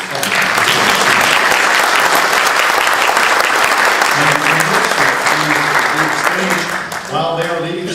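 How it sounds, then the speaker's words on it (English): A candidate forum audience at a 2014 county Republican event gives a loud, dense round of applause for the candidates. Near the end the clapping thins as a voice starts speaking over it. "Let's please give our candidates a round of applause."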